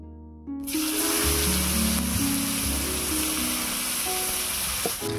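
Chopped onion tipped into hot oil in a pan after fish has been fried for a bhola fish curry, bursting into a loud, dense sizzle that stays steady after a quiet start.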